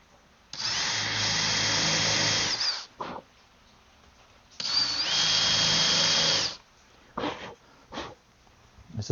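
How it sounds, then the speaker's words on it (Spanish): A power drill with a countersink bit bores holes in wood for a tortilla press, running in two loud sustained whirs of about two seconds each, followed by short bursts and pauses. "Estas perforaciones las hacemos con una avellanador."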